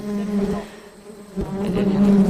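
Bees buzz in a steady, droning swarm around a large honeycomb being cut for harvest in a village, loud and close with shifting pitch.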